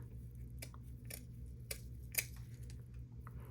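Scissors trim the edges of glued paper petals for handmade Christmas tree flowers, a few faint, separate snips spaced irregularly over quiet low room hum.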